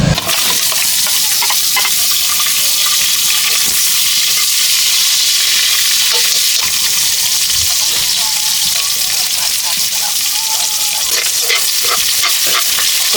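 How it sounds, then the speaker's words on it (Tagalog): Crabs, first boiled in water, cook into adobo in a pot over a fire at an abandoned nipa hut, giving a steady, loud sizzling and bubbling with occasional stirring clatter throughout. "So bala yung ginawa po ni Francis mga kalab ay pinakulo muna siya sa tubig at lulutuin niya na po ng adobo."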